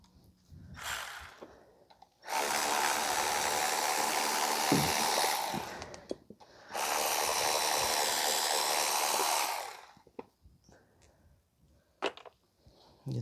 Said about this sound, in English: Once you get them loose, you can use a cordless ratchet.